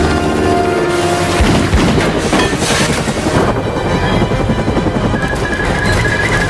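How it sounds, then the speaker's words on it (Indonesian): Gunfire aimed at a helicopter's fuel tank in a scene from The Matrix: a loud, dense barrage of shots and booms that blends into a sustained roar of action noise. "agen Smith pun langsung melepaskan tembakan ke arah tangki bahan bakar"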